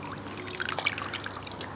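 Water pours into a blender holding a papier-mâché mixture of shredded soaked paper, a soft, steady trickle close by at low volume with no voices.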